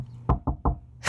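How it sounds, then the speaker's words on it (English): Three firm knocks on a door in quick, evenly spaced succession, close and loud against a quiet room, followed by a brief burst of noise at the end. "Bob and Ruth Morell were surprised by a knock at their door."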